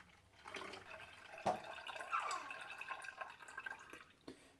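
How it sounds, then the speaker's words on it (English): Homemade oat milk pours slowly and steadily with soft trickling and a few small drips, close by and fairly quiet, with no talking. "you just pour it nice and slow"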